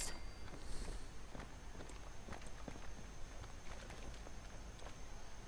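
Creatures run somewhere in Fallout 4 Far Harbor, a faint, steady patter of distant footsteps over a low background hum.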